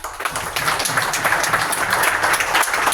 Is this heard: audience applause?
yes